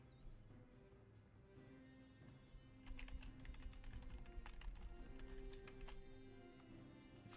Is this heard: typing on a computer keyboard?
yes